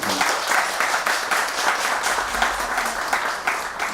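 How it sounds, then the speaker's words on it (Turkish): Steady, dense applause from the crowd at a CHP Bornova party meeting in İzmir, many hands clapping together close by in a continuous wash with no talk over it. "Ona kocaman bir alkış rica ediyorum."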